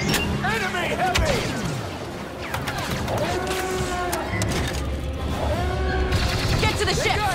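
Star Wars Battlefront 2 blaster fire crackles nonstop through a loud, dense battle on Jakku, with sweeping laser zips and clatter layered over a steady roar of combat noise.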